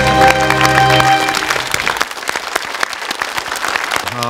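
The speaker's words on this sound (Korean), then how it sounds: "두 분께 박수 한번 보내주시고요" Studio audience in a Korean TV quiz show applauds two contestants, a dense, steady burst of clapping that starts over fading music and carries on alone to the end.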